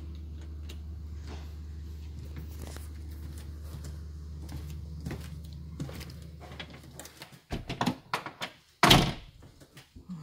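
A Rightver Consul Thermo 9005 entrance door is opened and locked, with soft clicks and handle sounds over a low hum, then louder clunks and a sharp metallic lock snap near the end, close.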